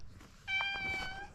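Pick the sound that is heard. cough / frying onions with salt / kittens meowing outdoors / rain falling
kittens meowing outdoors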